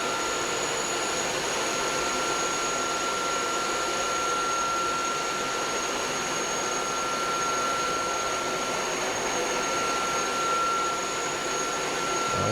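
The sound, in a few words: Uwant D100 and Tineco Floor One S5 wet dry vacuums on max suction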